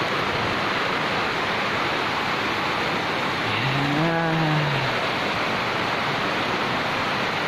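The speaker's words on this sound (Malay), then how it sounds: "Akhirnya nyampe juga ke puncak air terjun 7 Bidadari." Steady, broadband roar of the Seven Bidadari waterfall in North Aceh, loud and close throughout, with a brief rising whistle-like tone near the middle.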